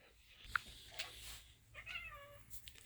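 A cat meows a few times in short, clear calls, with quiet background noise between them and no talking.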